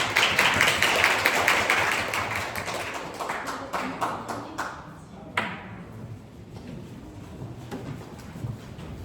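An audience at a lecture applauds the speaker: a loud burst of clapping at the start that thins out into a scattering of separate claps and taps, with some faint murmuring.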